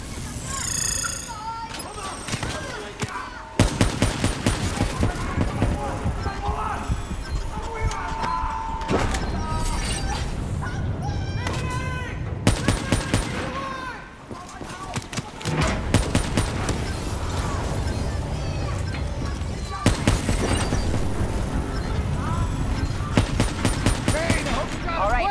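Bursts of gunfire and booming explosions from the video game Call of Duty: Black Ops 3 repeat throughout, loud and dense, with occasional voices in between.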